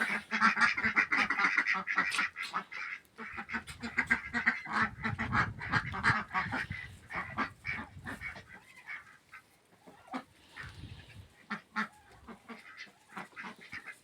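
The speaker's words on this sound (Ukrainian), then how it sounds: "Качки щасливі, довольні бігають." A flock of ducks quacking continuously nearby, overlapping calls with occasional louder honks over faint outdoor background noise.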